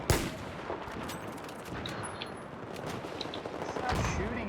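Game gunfire from Battlefield 4 on the Operation Metro map, a dense stretch of automatic weapon fire and rattling shots running continuously at moderate loudness, with bursts swelling toward the end and faint voices mixed in.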